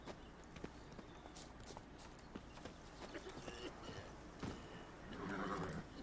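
Horse hooves clip-clop in The Witcher 3: Wild Hunt – Blood and Wine, a steady faint trot under game ambience, with a neigh-like burst near the end.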